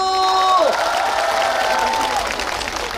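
Applause breaks out from an outdoor concert audience at the closing ceremony of the Seorak cultural festival in Sokcho, rising as a held tone fades and then thinning out into scattered claps.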